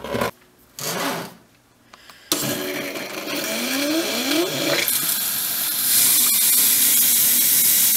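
Water runs from a newly installed kitchen faucet into the sink, a steady broadband rush that starts after a few knocks and handling noises and continues loud and close to the end, with no talk.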